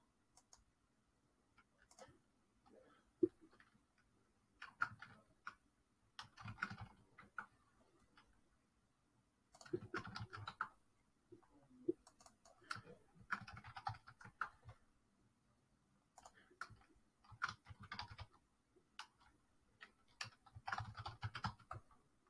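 Soft keystrokes on a computer keyboard come in short, irregular bursts of rapid taps separated by quiet pauses, faint and close, as a user ID and password are entered.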